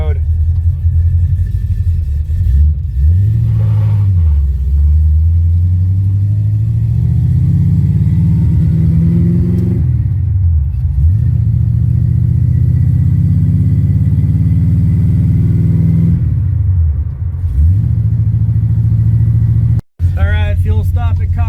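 A 1968 Pontiac LeMans engine drones loudly and steadily while driving, with pitch rising and falling through several gear changes and a brief cut near the end.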